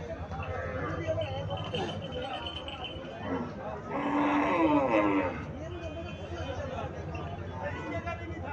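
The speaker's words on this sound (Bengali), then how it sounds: "এখানে একটা গাভী দেখা যাচ্ছে।" A cow at a livestock farm in Comilla, Bangladesh, lets out one drawn-out, fairly close moo midway, while people talk and chatter in the background throughout.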